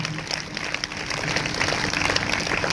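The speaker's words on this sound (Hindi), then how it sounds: "अगर आए हैं तो जोरदार तालियां बजाएं।" A church congregation at a Sunday service claps hard and steadily for nearly three seconds, a dense, even wash of many hands with a faint murmur of voices mixed in.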